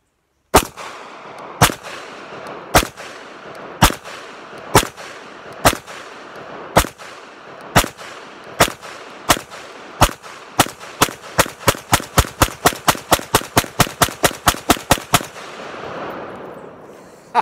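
A Kel-Tec PMR30 pistol fires a full 30-round magazine outdoors, loud sharp shots starting slowly and evenly spaced, then speeding into a rapid string before stopping.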